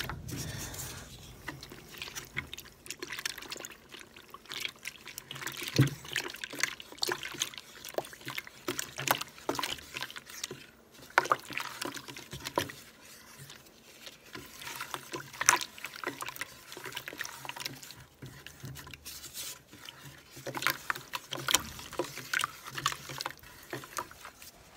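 Lightweight concrete, mixed very soupy, is stirred by hand with a paint stick in a steady run of wet sloshing, scraping and patter, quiet and close, continuing throughout without a break.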